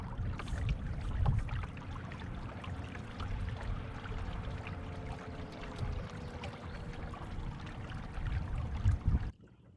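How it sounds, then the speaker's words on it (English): A motorboat passes on a quiet pond near a kayak launch, its steady low engine drone and water wash running throughout with a faint tonal hum, ending abruptly. "the first motorboat I've seen."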